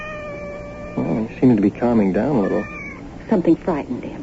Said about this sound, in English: Our first cat, and he's afraid of mice.